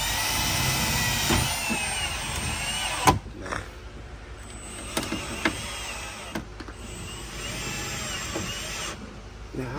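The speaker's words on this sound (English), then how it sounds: "so you're actually drilling into metal" A power drill bores into the metal body of a BMW E92 during weight-reduction work, with whining bursts that start and stop between quiet pauses and a few sharp clanks, while people talk quietly nearby.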